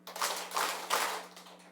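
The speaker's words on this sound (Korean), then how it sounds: "박수 3번" A church congregation claps in unison at a Sunday service, giving about three broad, roomy bursts in steady rhythm at moderate loudness, with a constant low hum underneath.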